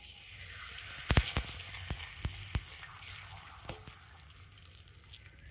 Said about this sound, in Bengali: তো দেখুন কত সুন্দরভাবে পাঁপড়গুলো ভাজা হচ্ছে।